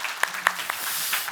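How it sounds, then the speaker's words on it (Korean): A church congregation applauds in thanksgiving during a Sunday worship service, giving a short burst of mixed clapping with a few sharper claps standing out over a broad hall wash. "하나님께 한번 감사의 박수 한번"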